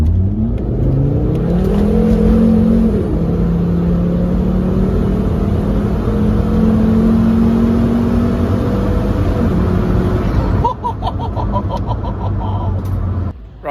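A Volvo 850 T5 car accelerates hard onto a fast road, its engine note climbing through the gears with rising whines, loud and close, before easing off near the end.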